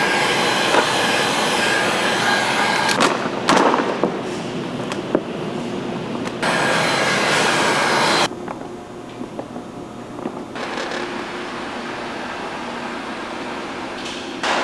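A heat gun blows on car wrap film, a loud continuous airy roar that cuts in and out as it is switched or moved, with quieter stretches between bursts and no talking.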